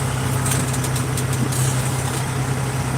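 A tractor engine idles steadily nearby, a loud, continuous low mechanical hum and rattle with no breaks or revving.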